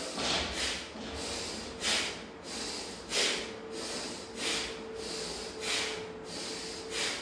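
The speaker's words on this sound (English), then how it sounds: "Forceful breathe in, forceful breathe out." Forceful pranayama breathing during a live yoga session, rhythmic sharp nasal inhales and exhales repeating steadily about every half second, close and fairly loud with no talking.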